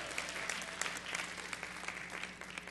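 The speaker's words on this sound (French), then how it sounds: "On applaudit le roi des rois." Dense, steady applause from a large church congregation, many hands clapping continuously at an even loudness for the whole stretch.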